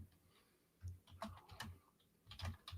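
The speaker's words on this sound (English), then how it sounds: "I'm typing something." Typing on a computer keyboard, with clusters of quick key clicks in short bursts separated by pauses, quiet and close against a faint room hiss.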